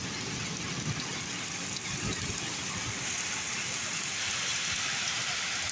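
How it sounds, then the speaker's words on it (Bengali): Heavy night-time rain pours steadily during a thunderstorm in Dammam, Saudi Arabia, a dense continuous hiss and patter with no break, fairly soft and even throughout. "আজকে সৌদি আরব দামবাজে অনেক বৃষ্টি হচ্ছে।"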